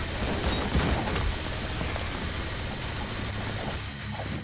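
A minigun firing in the game Madness: Project Nexus, a continuous rapid buzzing stream of shots with a steady low rumble, sustained and even in loudness from start to finish.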